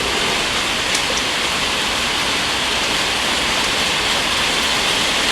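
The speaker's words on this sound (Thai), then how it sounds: "บรรยากาศฝนตกในกรุงเทพมหานครนะครับช่วง 12 นาฬิกานะครับ" Heavy rain pours down in Bangkok around midday, a dense, steady hiss of falling water that stays loud and even throughout, with no voices.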